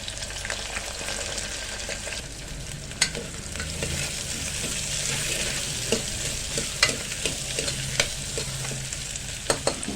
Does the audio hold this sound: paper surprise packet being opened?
no